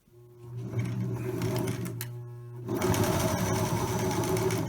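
A sewing machine stitches steadily, its motor humming and buzzing, then speeds up and runs louder and faster toward the end. No one speaks.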